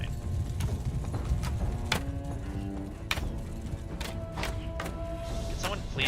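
Hooves clip-clop steadily in a medieval battle video game, with a horse giving a brief whinny amid dense battle noise and some voices in the background.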